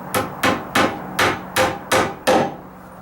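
A small nail is hammered at a 45-degree angle into a metal joist hanger during deck floor joist repair, seven sharp, evenly spaced hammer blows ringing close and loud, with no voices.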